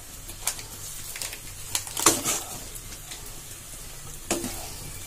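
Fried rice being stirred gently in a pan over low heat for a fried egg rice dish, giving soft sizzling with light scraping and occasional clinks, faint and close, with no talk.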